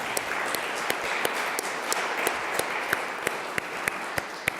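An audience applauds the author at a Slovenian book discussion of Mladen Dolar's new work, a steady wash of many hands clapping with sharper individual claps popping out, sustained and fairly close.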